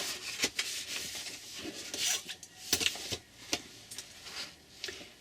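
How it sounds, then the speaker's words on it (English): Wallpaper being cut by hand for a folio accordion map, giving a run of close, dry rasping and scraping strokes with sharp crackly bursts, irregular in rhythm and heard alone without voices. "So I'm going to cut the wallpaper."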